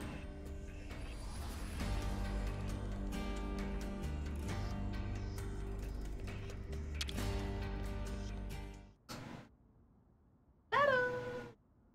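A cat meows insistently to be let in: a short meow, then after a pause a longer rising-and-falling meow. Steady synthetic music plays beforehand and then cuts off.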